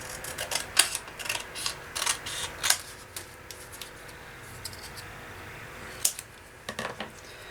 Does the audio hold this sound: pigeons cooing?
no